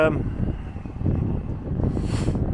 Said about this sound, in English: And that might be a bit windy at the minute.